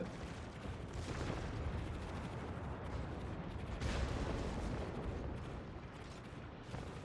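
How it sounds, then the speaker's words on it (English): An airstrike in the World of Warships naval battle game hits as a continuous rumble of blasts and booming explosions, with louder bursts around the middle. "there is another airstrike incoming"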